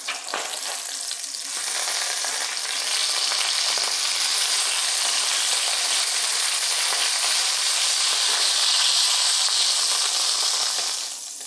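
Homemade breakfast sausage fries in a pan with a loud, continuous sizzle and hiss that swells slightly and holds steady before tapering off at the end, with no voices.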